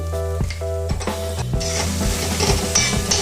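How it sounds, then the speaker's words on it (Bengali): Grated paneer goes into a hot pan and is stirred, the spoon scraping in a repeated rhythm over a steady close sizzle with light clinks of metal. "এবার আমি দিয়ে দেব গ্রেট করা পনিরটা এর মধ্যে পুরোটাই দিয়ে দেব"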